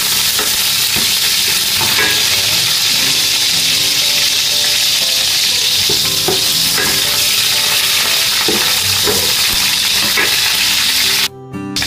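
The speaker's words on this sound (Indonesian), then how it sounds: "Dan ini sudah bunyi-bunyi minyaknya teman-teman. Kita masukkan si serai ya, 2 batang." Two stalks of lemongrass dropped into hot oil and stirred, a loud, steady sizzle and hiss with repeated scraping stirs throughout, close up and without talk.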